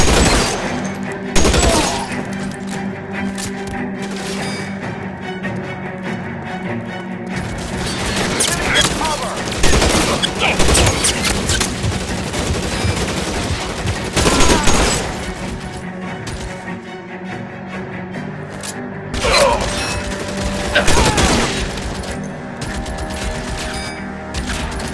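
Video game gunfire in LA Noire Remastered during a shootout: repeated bursts of shots and heavy volleys recur across the whole stretch, with louder peaks every few seconds, over a background of game voices and ambience.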